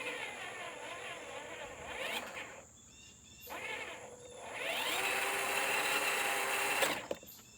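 A Power Wheels toy car's electric motor whines as the wheels spin, rising and falling in pitch in several bursts, close and fairly quiet with a short stop before a longer high spin.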